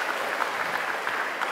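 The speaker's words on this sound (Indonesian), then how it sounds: "Tepuk tangan dong buat Ustadz Syam." Applause from a studio audience at an Islamic talk show, honoring Ustadz Syam, a steady dense wash of clapping held at even level throughout, fairly distant.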